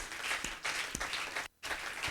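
A church congregation applauding during a Sunday service, steady dense clapping from a crowd with one brief pause, fairly loud and close.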